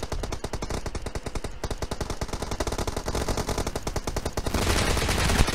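Rapid automatic gunfire in the PUBG shooter game, dense repeated shots in fast bursts, loud and close, growing into heavier overlapping fire near the end.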